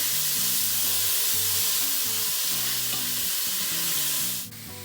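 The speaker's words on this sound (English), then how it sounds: "Fry your onion for a couple of minutes on high heat until the onion is kind of golden." Onion frying on high heat in a pan gives a loud, dense, continuous sizzle with stirring scrapes running throughout, then drops off abruptly near the end.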